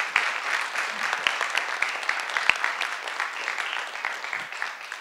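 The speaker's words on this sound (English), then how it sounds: "let's give a nice round of applause for Dr." Audience applause for Dr. Sandy Spanier at a university distinguished speaker lecture, a steady patter of many hands clapping at moderate loudness, with a few sharper claps standing out, continuing through the whole stretch.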